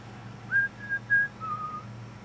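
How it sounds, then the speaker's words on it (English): A referee's final whistle sounds in the football video game FC 26, three short sharp blasts followed by a longer, lower blast, loud and clear over low crowd rumble. "Final whistle sound."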